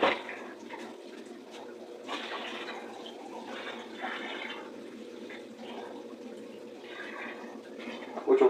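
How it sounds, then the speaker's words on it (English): Fresh RODI water pouring and splashing into a marine quarantine aquarium, a steady close gurgling flow with a few louder surges and no talk. "I have some fresh RODI water over here that we will replace it with"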